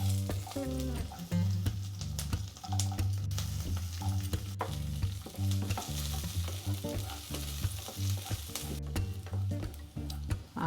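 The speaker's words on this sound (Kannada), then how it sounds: "ಈ ಬೆಳ್ಳುಳ್ಳಿನ ಅರ್ಧ ಹುರ್ಕೊಳ್ಳೋಣ" Garlic frying in about two spoons of oil in a home kitchen pan, a steady close sizzle with repeated stirring and utensil scrapes throughout, no talk.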